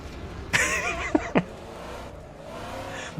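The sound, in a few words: Pontiac Trans Am engine in Assetto Corsa video game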